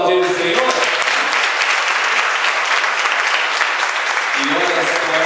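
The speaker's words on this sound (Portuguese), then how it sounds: "Vamos aplaudir o Senhor?" A church congregation applauds during an evening worship service, loud sustained clapping from many hands that fills the hall steadily for several seconds, with a voice audible at the start and again near the end.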